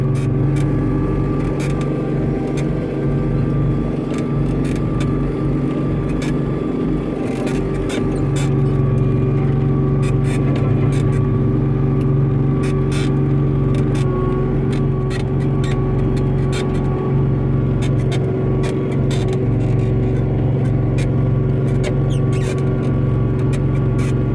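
A White 4-225 tractor with a turbocharged V8 Cat 3208 engine drones loud and steady at close range through the whole stretch, a constant heavy rumble with a few sharp ticks on top and no voices.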